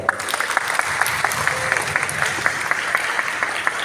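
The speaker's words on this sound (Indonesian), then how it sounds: "Tepuk tangan untuk beliau." An audience at a talk gives steady, dense applause to a visiting professor, many hands clapping close together in an even, continuous patter with no speech over it.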